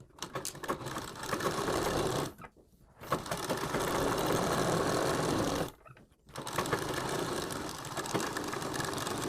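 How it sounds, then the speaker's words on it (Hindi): An electric sewing machine stitches a sleeve's lining to its fabric, running in long, fast, even whirring bursts broken by two brief pauses. "आपको यहाँ पे सिलाई लगाकर अपने अस्तर को और कपड़े को अटैच कर देना है"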